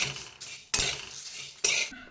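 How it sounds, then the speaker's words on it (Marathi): A spatula scrapes and stirs onion-coconut masala as it roasts in a kadhai over a low flame, three distinct metallic scraping strokes, fairly close, with no voices. "हे आपल्याला छान मंद आचेवर भाजून घ्यायचे आहे"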